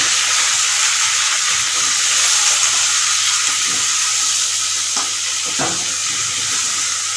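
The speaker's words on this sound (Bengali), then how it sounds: "এই অল্প তেলের মধ্যে এটা নাড়বেন" Vegetables with turmeric and salt stir and fry in a little oil for shukto, a steady bright sizzle running throughout, broken by a few soft scrapes and knocks of a spatula in the pan.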